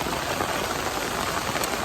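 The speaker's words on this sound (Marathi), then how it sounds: "ॲक्च्युली खूप पाऊस आहे, खूप पाऊस आहे इथे आमच्या इथे." Heavy rain pours down steadily, a dense, unbroken hiss of drops with no other sound over it.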